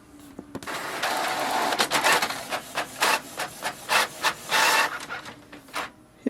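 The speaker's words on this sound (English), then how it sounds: "So here we can see the printer has printed the sheet." A Canon Pixma TS704 inkjet printer feeds and prints a sheet, close and clear: a rubbing mechanical whir followed by a rhythmic series of short scraping print-head passes, then quiet.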